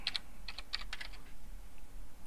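Quick bursts of keyboard typing, several clusters of clicks with short pauses between them, close and fairly quiet.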